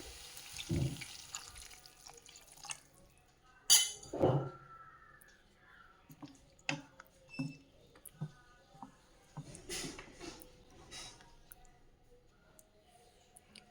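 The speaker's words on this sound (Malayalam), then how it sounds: "ഇനി ഇത് നമുക്ക് സ്വല്പം വെള്ളം ഒഴിച്ച് വേവിക്കാം." Short splashes and trickles of water poured into a pan of vegetable kurma, mixed with clinks of utensils and sparse kitchen clatter, fairly quiet.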